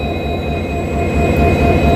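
Loud ALCO diesel locomotive engine starting up close, a deep steady roar with a thin high whine above it, growing slightly louder.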